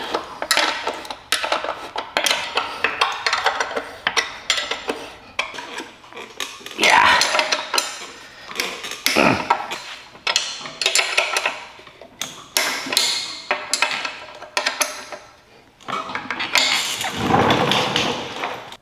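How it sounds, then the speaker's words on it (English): Metal tools and bolts clink and clatter while gear bolts on a Bass Tracker boat are tightened, with repeated sharp metallic knocks in uneven bursts, close and fairly loud. "Safe now to tighten them all up, so that's what I'm going to do"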